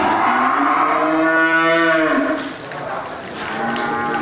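A bull or cow moos loudly and close by in a long, drawn-out call at the Grogol livestock market in Aceh, where cattle such as Aceh bulls are sold, with crowd murmur filling the background.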